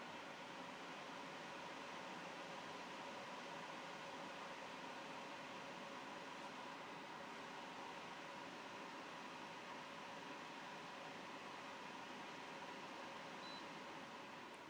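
A Coway Airmega 100 or Levoit Core 300 air purifier fan runs steadily on level 3, giving a constant broadband whoosh of moving air with a faint tonal hum. It sounds close and even throughout, with no talk.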